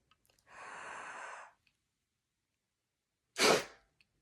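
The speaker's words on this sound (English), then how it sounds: "Then we're going to take in a deep breath." A long, steady breath is drawn in before someone blows into a peak flow meter, followed after a pause by one sharp, forceful puff of air. Both sounds are close, with silence between them.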